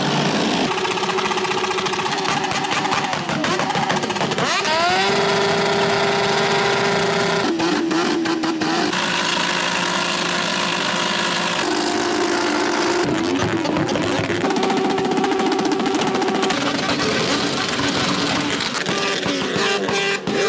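Motorcycle engines roar and rev continuously around the campsite at the 24h du Mans motorcycle race, a loud, dense mix of revving and idling with repeated rises and falls in pitch over about twenty seconds.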